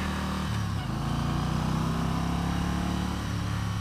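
A 2018 Yamaha Star Venture touring motorcycle with a huge engine hums steadily while riding, a smooth low droning note that rises slightly in pitch, with continuous wind rush over it.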